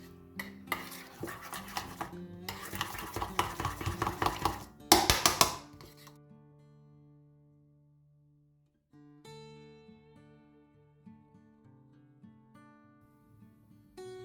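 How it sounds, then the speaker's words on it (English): A spoon stirring and scraping melted wax in a pot, with rapid close clinks and scrapes against the metal for several seconds, a brief pause, then softer, sparser tapping. "I'm just going to give it a stir with the spoon here, just to scrape the edges."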